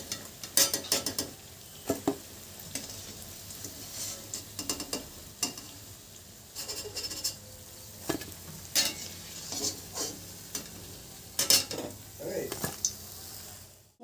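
Banana flower chops fry in hot oil with a soft, continuous sizzle. A spatula or ladle scrapes and clinks against the pan in irregular bursts throughout.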